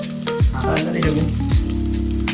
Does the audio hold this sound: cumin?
yes